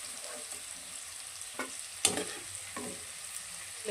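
Ridge gourd pieces fry steadily in a pan with a constant close sizzle, while a spoon stirs through them with three scraping strokes spaced about half a second apart.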